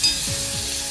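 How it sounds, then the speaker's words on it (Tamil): Onion and tomato sautéing in a pan with groundnut oil for an okra stir-fry, giving a steady close sizzle with a couple of soft stirring scrapes and no talking. "தக்காளி நல்லா சாஃப்ட் ஆகிற மட்டும் நல்லா வதக்கி கொடுக்கணும்."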